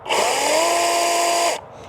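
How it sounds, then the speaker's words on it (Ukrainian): A Litheli cordless battery chainsaw runs at a steady high whine with a buzzing chain for about one and a half seconds, close and loud, then stops abruptly. "Як відчули, пилка має плавний запуск і швидку зупинку ланцюга."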